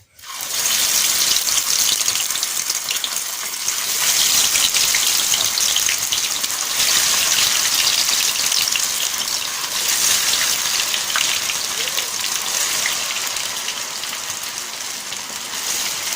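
Kofta meatballs dropped into very hot oil sizzle and crackle loudly, a continuous bright hiss that starts abruptly and holds steady with small spitting pops throughout.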